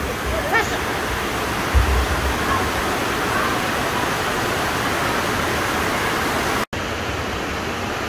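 Water flowing at a thermal spring among rocks in Abkhazia, a steady close rushing hiss that continues evenly throughout, with a brief low bump near the start.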